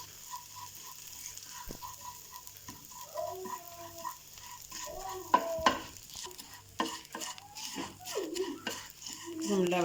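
Brown flattened rice (aval) fries in a pan with a light sizzle, and stirring and clattering against the pan grow louder and busier toward the end.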